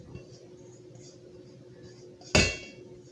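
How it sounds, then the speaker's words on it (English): A spatula clangs once into a metal sink in a home kitchen during pancake batter mixing, a single sharp metallic hit with a short ringing tail over quiet room noise. "Clang. Set that off in the sink."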